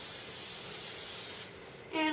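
Cooking spray hisses in one steady, close blast of about a second and a half onto a dough ball sitting in a mixing bowl, then stops abruptly, followed by a brief clatter.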